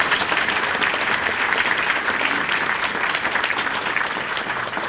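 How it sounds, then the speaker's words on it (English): An audience applauds throughout at an anniversary concert honoring a Grammy-winning polka musician: dense, sustained clapping from many hands, fairly close and even in loudness, with no voices standing out. "this is where we got to applaud"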